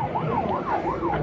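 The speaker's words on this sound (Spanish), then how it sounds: "Por acá, creo, la ambulancia." An ambulance at an 11 km mountain running race sounds its siren in a loud, continuous wail, rising and falling in regular, rapid sweeps with nothing else over it.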